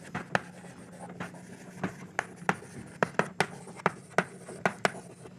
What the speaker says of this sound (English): if instead of writing it this way, I write the n as stress over area